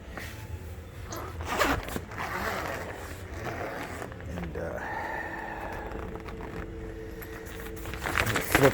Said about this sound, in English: Just unzip these sides.